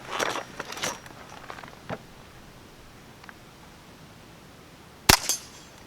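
A Ruger 10/22 rifle fires a CCI Quiet 710 FPS round, one sharp, fairly subdued crack near the end, preceded by several light clicks and handling noises up close.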